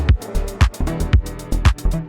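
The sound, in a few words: house music record playback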